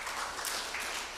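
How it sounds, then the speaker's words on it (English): A crowd claps for a presenter at a university members' education day, a dense, steady wash of applause heard briefly and at even loudness. "Prof, can we give him now a better clap?"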